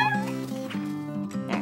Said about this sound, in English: Right, kitties?